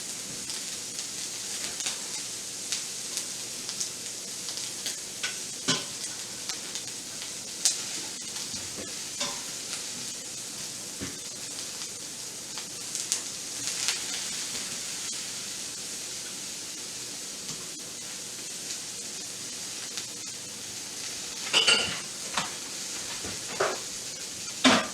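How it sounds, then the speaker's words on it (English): Jasmine rice fries in a pan for shrimp fried rice, a steady loud sizzle and hiss broken by repeated scrapes and knocks of stirring, close, with no talking. "Just gonna give this a nice quick stir here."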